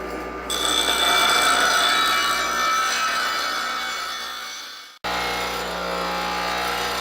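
A saw blade cuts through model heart valves, giving a loud, steady grinding whine for about five seconds that cuts out abruptly, then starts again at full strength.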